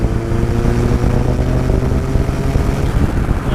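An RX-5 Turbo car engine pulls hard in sixth gear, a loud, steady, droning roar that holds without a break and with no voices over it.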